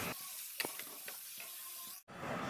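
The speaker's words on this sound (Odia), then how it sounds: "ପିଆଜକୁ ଭଲ ଭାବରେ ଏପଟ ସେପଟ କରିକି ଭାଜିବେ, ପୁରା ମାନେ ଲାଲ ହେଲା ପର୍ଯ୍ୟନ୍ତ ଭାଜିବେ।" Onions fry in a pan for a chicken curry, making a quiet, even hiss broken by a few soft stirring knocks, then a brief drop to near silence before the sizzle returns.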